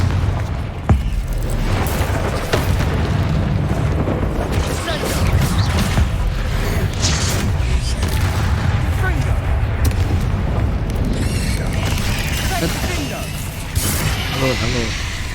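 Confringo blasting spells from the Hogwarts Legacy video game go off as repeated booms and bursts, dense and loud, over continuous game music and effects throughout.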